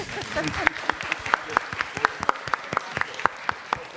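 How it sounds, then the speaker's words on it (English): A press conference audience gives Carrie Fisher a quick round of applause. The sharp claps are irregular but dense, fairly close, and carry a murmur of voices underneath. "Quick round of applause for Carrie Fisher, please."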